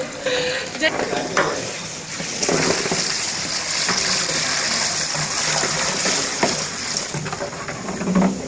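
A large cooking pot over an outdoor fire is stirred with a steady scraping and sloshing, while the contents sizzle and bubble close by. A voice talks intermittently over it.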